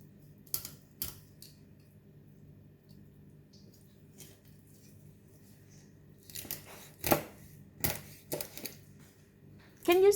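A knife cuts through a fish close to the center bone for deep-fried crispy chilli fish, giving sparse, crisp clicks and scrapes. They are near and irregular against a quiet background, growing busier toward the end.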